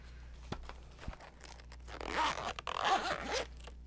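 A pencil case holding colored pencils is unzipped after a few light taps and clicks, the zipper giving a close, rasping pull for about two seconds.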